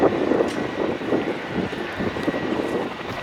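A jet-powered Pitts Special aerobatic aircraft taxiing back along the main runway at Duxford, a continuous broad engine roar with slight wavering, moderately near and alone.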